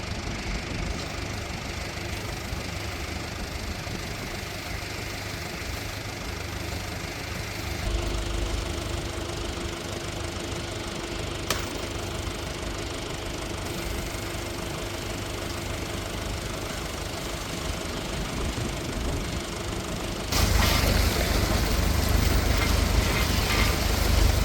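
A farm tractor engine idles and runs steadily while reeling in a boom at a cranberry harvest bed, a constant loud mechanical drone that grows heavier and louder near the end, with no talking.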